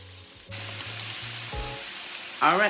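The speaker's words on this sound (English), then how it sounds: "So I want this to get a crisp fry on it" Cube steak frying in a pan for a Sunday dinner, a steady loud sizzle after a sharp start, with short low thumps early and a brief voice at the end.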